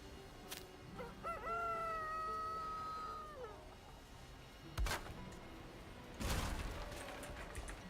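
A rooster crows once, loud and close, in a chicken coop, followed by a few short thumps and rustles.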